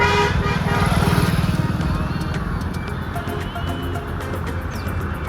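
A motorcycle engine running loud and close after 250 ml of Bharat petrol is poured into the empty tank, a steady throbbing idle with a slight rise and fall in intensity.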